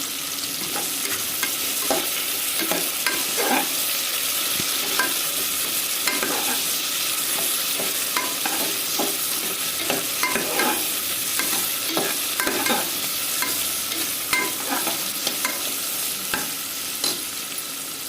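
A ladle scrapes and stirs varagu millet biryani mixture with onions in a hot pan, steady irregular scraping over a constant sizzle of frying, close and fairly loud, no talking.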